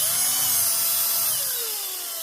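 A Philco Force PPF03M 12V cordless drill driver running at its slower speed, a loud, steady close whine with a slightly falling pitch as it winds down, alone without voices.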